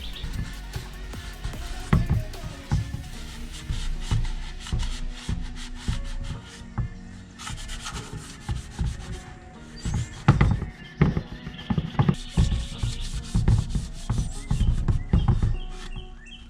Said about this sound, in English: I just gave it a quick little scuff with the Scotch-Brite.